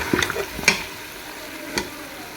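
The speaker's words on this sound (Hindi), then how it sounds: "अब 5 मिनट हम इसको भून देंगे।" Mutton and potatoes with black pepper frying in oil, heard as a soft sizzle with a few sharp stirring scrapes and clinks in the first second and another near the end, no voices.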